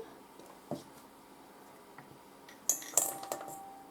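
A metal spoon picked up in a kitchen while making cookies from a jar mix, light clinks and clatter of cutlery against dishes, a few sharp close taps amid quiet room noise.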